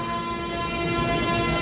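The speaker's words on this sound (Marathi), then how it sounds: "आणि फायनली आपली ट्रेन निघाली." An older, standard-style passenger train sets off from Kankavli toward Dadar, a steady rumbling drone with sustained horn-like tones held throughout, heard close and continuous with no talk.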